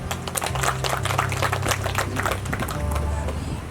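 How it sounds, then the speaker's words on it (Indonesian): Hands clap together in applause at a Christian holy matrimony ceremony, a brisk scattered patter of a modest crowd that fades after a few seconds, with low voices and a faint hum of the room beneath. "Tepuk tangan."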